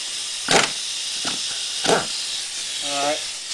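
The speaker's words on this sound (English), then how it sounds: "I use a pretty good impact wrench to get it." An impact wrench blasts loose the nut on a GY6 scooter engine's variator, giving two or three short, loud bursts over steady background hiss.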